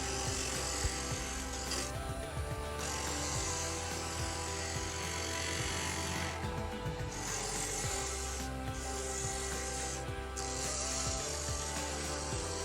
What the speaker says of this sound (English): Next I switch chisels and start working on the detail in the shape of the handle.